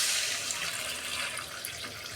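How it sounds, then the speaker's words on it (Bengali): Water poured into a pan of mango fish curry, a continuous close splashing pour that stays fairly loud and even throughout. "আমি এবার জল দিচ্ছি, পরিমাণ মতো জল দেবো"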